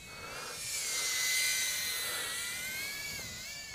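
Small 2-inch XI20 Pro drone's motors whine at around half throttle in breezy outdoor flight, a steady high-pitched buzz with wavering pitch that swells and eases slightly throughout, moderately distant.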